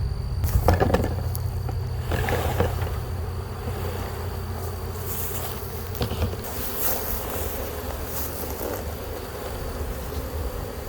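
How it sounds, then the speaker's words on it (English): Many honey bees buzzing around a hive frame in a loud, constant drone close by, with occasional soft tapping and handling noises underneath. "That'll make some of the bees fly off."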